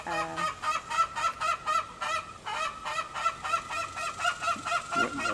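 Homestead poultry near a chicken coop honk and call repeatedly, a loud goose-like chorus of overlapping cries in a fairly steady pulsing rhythm.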